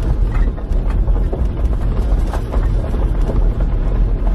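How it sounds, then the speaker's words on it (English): Strong, steady wind buffets the microphone at a forest park caravan and camping site in the Cairngorms, a continuous low roar with gusty surges throughout and no talk. "but it is very blowy."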